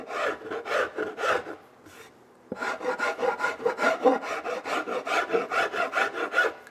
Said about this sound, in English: The trick here is not to go too far with the file.